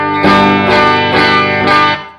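Electric guitar with both pickups on and out of phase, played through heavy distortion in drop D tuning: four thick, loud sustained chords strummed about half a second apart, each ringing with a dense, buzzing tone.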